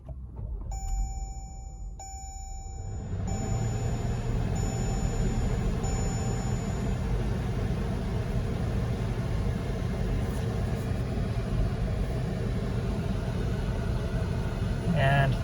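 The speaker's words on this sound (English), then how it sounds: "use the push button restart so that you can see the startup sequence" A 2019 Jeep Grand Cherokee Trailhawk restarted by push button: chimes sound first, then the engine cranks and settles into a steady close idle rumble, with a voice speaking over it.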